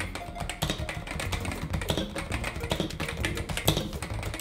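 Close, steady typing on a Topre Realforce RGB keyboard with electrostatic capacitive tactile switches: a dense run of soft, rounded keystrokes at an even, brisk pace, with no talking over it.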